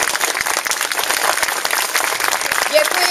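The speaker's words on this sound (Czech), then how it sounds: "Vás poprosím znovu o potlesk pro tyto tanečníky" Audience at a Czech village harvest festival claps for young folk dancers, a lively burst of many hands that carries on through the whole stretch, loud and close with faint crowd murmur.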